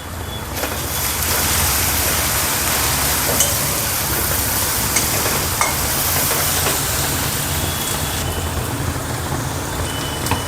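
Turmeric and mustard seeds temper in hot oil for a kavla vegetable dish, making a loud, continuous sizzling hiss with scattered crackling pops and a low background rumble throughout.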